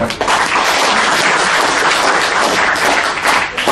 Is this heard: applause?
yes